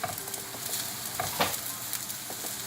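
Chickpea semolina cutlets fry in a pan over a medium-low gas flame, giving a continuous close sizzle with occasional scraping and stirring sounds as they are turned.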